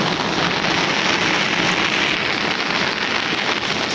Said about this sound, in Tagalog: Ayan po, lakas ng ulan, oh.